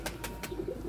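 Pigeons coo softly in a short run of low, rounded repeated calls, a few birds close by over light rustling and faint background noise, no talking.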